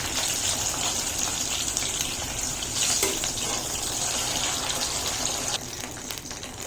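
Fried potatoes go into a simmering arum curry broth for a no-onion, no-garlic kochur jhol, giving a continuous loud bubbling sizzle and hiss with a brief clatter midway, easing slightly toward the end.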